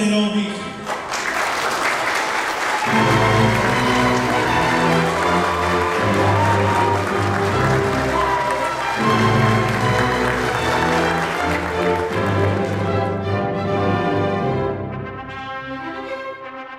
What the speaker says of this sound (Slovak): potleskom privítali mladomanželov Demeterových